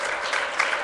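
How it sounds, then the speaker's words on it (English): Audience applause at a Hindu temple gathering in Toronto, a dense, steady clapping from a crowd that fills the whole short moment without a break. "Let's give a big round of applause."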